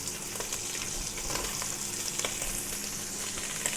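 Carrots fry with chorizo in a pan, giving a continuous, even sizzle with faint crackles and occasional light stirring taps, close and steady.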